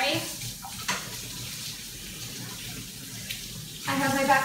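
Running tap water pours steadily into a kitchen sink while an item is washed underneath, a continuous close splashing rush with a brief change in flow near the end.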